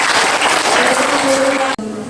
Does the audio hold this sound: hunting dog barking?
no